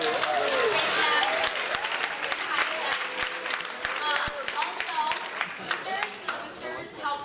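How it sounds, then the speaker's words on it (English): Applause and clapping from a school audience at a Writers Week assembly, loud at first and thinning toward the end, with voices and cheers mixed in. "So, give your English teachers a round of applause."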